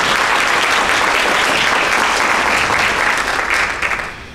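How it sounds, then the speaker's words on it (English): Loud, sustained applause from a large crowd, dense and steady before tapering off at the end. "Please give our sponsors a round of applause."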